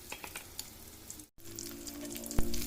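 Sliced tempeh sizzles and crackles in hot frying oil, with a dense, steady spatter broken by a brief cut and then a louder hiss with a few sharp pops, and no talking.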